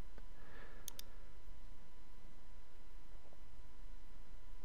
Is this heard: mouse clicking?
yes